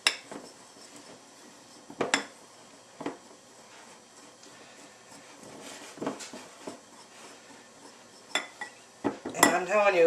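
Softened salted butter mixed in a bowl with a utensil, producing intermittent clinks and scrapes of metal on the bowl in scattered bursts over a quiet background, with a busier clatter near the end.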